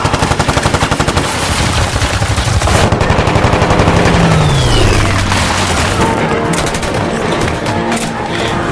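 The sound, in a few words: Japanese fighter plane machine gun attack in war film The Eight Hundred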